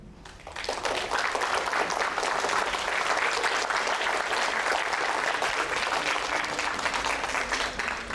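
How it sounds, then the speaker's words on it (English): Audience at a creative talk clapping hands in sustained, dense applause that begins after a brief lead-in and continues steadily at even loudness throughout. "please clap your hand."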